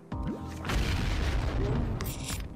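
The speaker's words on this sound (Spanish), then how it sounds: "me explotaba la bomba" Cartoonish bomb blowing up in the Puku Trivial quiz game: a short whistling drop, then a loud, rumbling boom that roars on for a couple of seconds before a bright crackle near the end.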